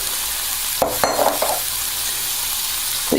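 Cauliflower and cabbage sizzle in warm oil in a large pan, a steady frying hiss broken by a few scraping stirs of a utensil close by.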